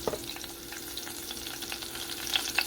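Pizza sauce seasoned with Italian seasoning simmers in a pot on the stove. It gives a soft, steady sizzle and crackle at low volume, with a few faint stirring clicks and no voices.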